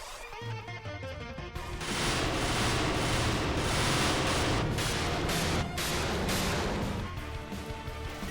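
Dense, continuous battle effects from the Undertale video game, with rapid bullet-like firing and crashing impacts layered over game music, steady and loud for several seconds.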